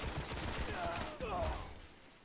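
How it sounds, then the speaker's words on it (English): Gunfire from a shotgun in the online shooter Destiny, a loud burst of blasts packed into the first second or so, then a quieter tail as the game audio goes on under a player's voice. "That's a shotgun!"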